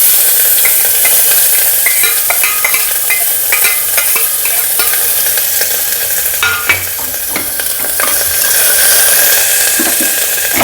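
Crushed ginger and garlic sizzle steadily in a hot pan for a white kuruma, with scattered scraping stirs and small pops over a continuous frying hiss.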